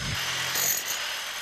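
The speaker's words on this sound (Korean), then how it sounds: "때문에 전기톱이나 그라인더 대신 해머 드릴을 사용해 돌을 깎는다" A hammer drill chiseling basalt stone for a dry stone wall, a steady dense rattling hammer buzz that runs without break, close and loud.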